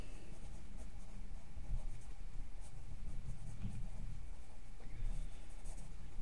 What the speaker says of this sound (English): Let me actually write.